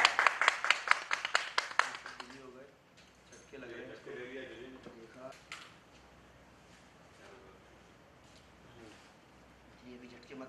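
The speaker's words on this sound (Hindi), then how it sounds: "तालियां तालियां." Studio audience applause on a Hindi live news-style show, a burst of brisk, dense clapping for about two seconds that quickly fades, followed by people talking.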